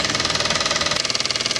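A small Cyldon toy steam engine running on live steam, giving a fast, even chuffing beat that pulses steadily throughout at close range with a hissing wash over it.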